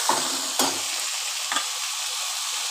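Bottle gourd peel and potato fry with salt in a kadai, a constant bright hiss broken by three quick scraping stirs near the start, middle and later on.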